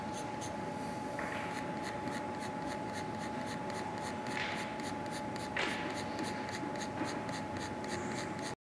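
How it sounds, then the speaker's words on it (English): Sharp metal point scratching lines through the resist layer on an etching plate: close, continuous scratchy drawing strokes with occasional sharper scrapes over a steady faint background hum. "a sharp metal point is used to draw, ensuring that the lines are scratched through the layer of resist"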